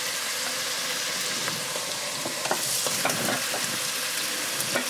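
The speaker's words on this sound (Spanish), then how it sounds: "La carne sofreírla un poquito" Meat browns in a sofrito for a potato and rib stew, sizzling and crackling steadily in the pan, close and moderately loud, with small spattering pops and occasional stirring and no talk.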